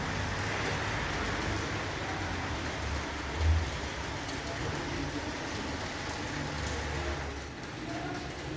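Rain falling during a holiday in Spain, a steady soft hiss of drops on surfaces throughout, with a faint low thud partway through.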